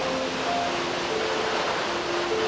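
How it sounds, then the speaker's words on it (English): Steady, rushing water roar from a waterfall in New South Wales or Queensland, heard from its base, a constant broadband wash with faint tonal whines layered over it. "I've arrived at the base of the waterfall, and isn't that beautiful?"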